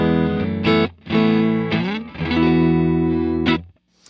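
A clean electric guitar plays sustained chords and a few single notes, ringing clearly with short gaps between phrases and a brief silence at the end.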